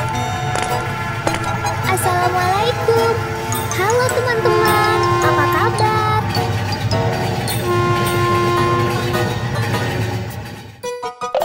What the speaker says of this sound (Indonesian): Ada kereta api yang sedang berhenti untuk